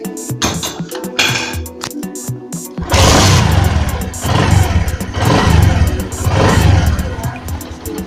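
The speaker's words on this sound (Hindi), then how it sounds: "स्टार्ट करने के बाद हल्का सा थोड़ी देर इसको जहाँ बाइक खड़ा है वहीं पे इसको चालू रखें।" A motorcycle engine is kick-started and then settles into a steady idle while parked, with sharp mechanical clatter first and a loud continuous running rumble after.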